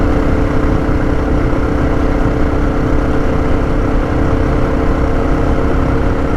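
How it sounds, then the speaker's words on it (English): A Honda XR650L motorcycle engine with an FMF exhaust, heard while riding: a continuous, loud, rumbling drone with steady throttle and wind noise throughout. "I really like the sound of that FMF exhaust."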